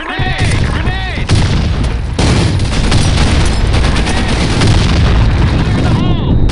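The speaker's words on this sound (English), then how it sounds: "Fire in the hole! Grenade! Grenade!" A grenade explosion and gunfire in the shooter BlackShot during a clan war match, loud sustained booms and rattling shots with sharp onsets, with shouted game voice lines over the top.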